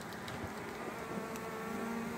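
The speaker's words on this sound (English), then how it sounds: "Oops, that bee's falling on me." Italian honey bees being hived, a steady mass of buzzing wings close by at moderate volume, with a few soft knocks and handling sounds mixed in.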